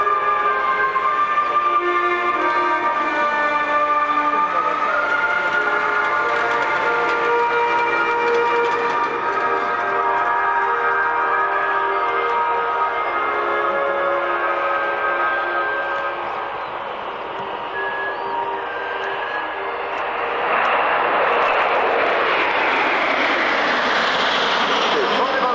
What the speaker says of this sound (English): you will see 8 Alpha Jet in close formation